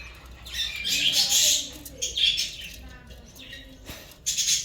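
Bursts of high, scratchy chirps and squawks from small birds, close by and repeating in clusters, with quiet gaps between.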